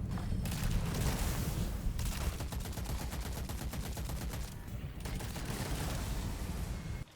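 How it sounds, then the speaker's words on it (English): Auto rifle fire in the game Witchfire crackles in fast, sustained automatic bursts with brief gaps, a dense rapid rattle running steadily throughout at moderate loudness. "what's really fun is using one of the auto rifles here with increased damage and tearing through the map"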